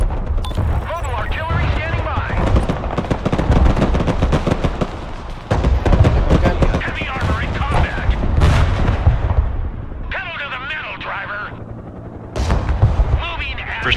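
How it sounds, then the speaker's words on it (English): Rocket artillery from an MLRS launcher in the military strategy game Broken Arrow, with repeated loud blasts and rapid volleys layered over ongoing battlefield gunfire and explosions, while people talk throughout. "Returning fire on that RT with my MLRS."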